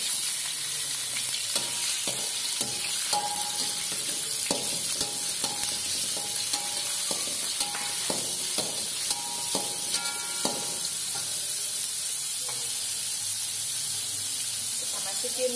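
Chopped shallots and tongkol tuna frying in a pan, a steady broadband sizzle with irregular clicks and spatters as the pieces are stirred, loud and close throughout with no talking.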